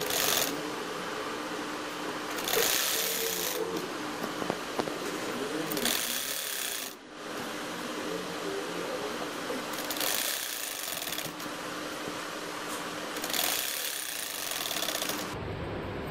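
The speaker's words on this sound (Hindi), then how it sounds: "अब ये हम इस पर सेकंड सिलाई लगाएंगे।" Sewing machine stitching a second seam along a poncho, a close steady mechanical running sound in several bursts separated by brief pauses, with no talking.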